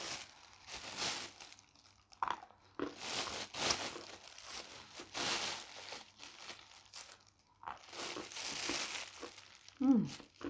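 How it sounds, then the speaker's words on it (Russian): Plastic bags crinkle and rustle close by in bursts, with pauses between handlings and a quiet voice speaking faintly underneath. "шуршание пакетов будет"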